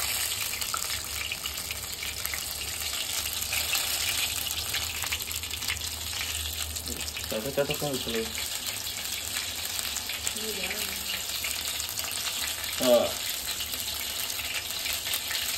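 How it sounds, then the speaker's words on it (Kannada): Mussel fritters frying in hot oil, a steady dense sizzle with occasional sharper crackles and pops from moisture in the batter, close and continuous with no talk. "ಅದು ನೀರೆಲ್ಲ ಇರುತ್ತಲ್ಲ ಅದಕ್ಕೆ ಪಟ ಪಟ ಅನ್ಸುತ್ತೆ"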